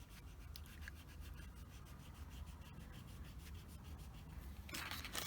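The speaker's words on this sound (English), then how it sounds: "You can use the eraser" An eraser rubs back and forth over oil pastel on paper in quick, faint, close strokes, with a slightly louder scrub near the end.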